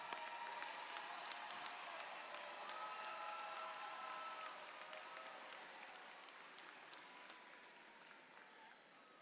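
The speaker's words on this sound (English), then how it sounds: "let's give all of our graduates a round of applause." An audience at a December commencement ceremony applauds its graduates in a long, sustained ovation, with a few scattered cheers and voices mixed in, fading gradually over about nine seconds.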